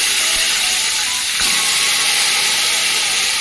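Eggplants hit a pan of browned onions, setting off a loud, dense hiss that stays continuous throughout, with one brief knock near the middle.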